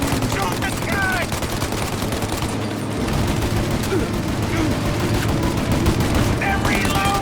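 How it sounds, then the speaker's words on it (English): Rapid bursts of gun and machine-gun fire in the Mafia video game crackle loudly and almost without pause, with excited voices talking over the shooting. "Shoot the gun!"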